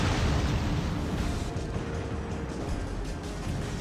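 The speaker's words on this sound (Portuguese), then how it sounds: "Eu tomei um tiro amigo, caramba" A friendly-fire shell hits a Clemson destroyer in World of Warships near the Solomon Islands, a rumbling low boom that swells at the start and then trails off into a long, noisy decay.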